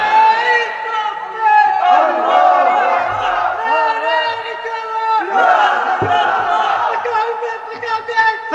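A large crowd at a religious gathering chants the Naraye Takbir response in unison, loud rhythmic shouted phrases rising and falling in repeated waves, with a leader's voice calling between them.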